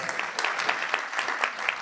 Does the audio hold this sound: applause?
yes